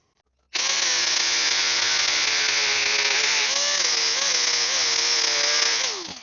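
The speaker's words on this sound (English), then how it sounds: "cut some angles and then hit them with the grinder and round them up a bit" A grinder rounds off the tops of metal rods for a brolga bird sculpture: one steady, loud high-pitched whine starts abruptly, holds with slight pitch shifts as the disc meets the steel, then winds down at the end.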